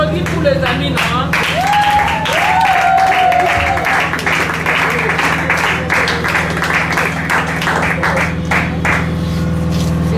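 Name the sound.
applause for friends at a gathering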